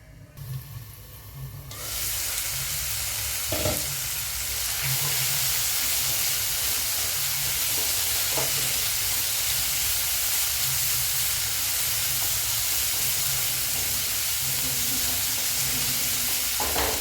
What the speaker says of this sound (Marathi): ते थोडंसं आपण झाकून ठेवूया. हरभरे आहेत ना, हरभरे आणि छोले ते वाफून घेतलेले आहेत मिठाच्या पाण्यामध्ये. तर एखादे मिनिट आपण वाफ देऊया.